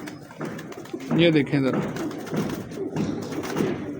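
Someone talks steadily while pigeons, including a bataira pigeon, keep up a low throaty cooing nearby, with a brief soft thump partway through.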